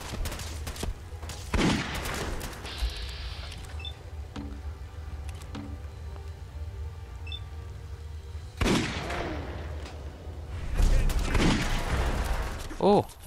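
Gunfire from a gun in the Fallout 4 video game, heard as several loud bursts of sharp shots scattered through the clip over a steady game background, with talking in between.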